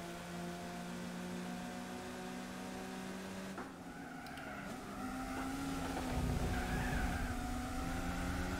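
Race car engine in the Gran Turismo 4 video game during a Mirage Cup race, a steady droning whine that shifts pitch partway through as the car changes gear, then rises again, heard alone at moderate level.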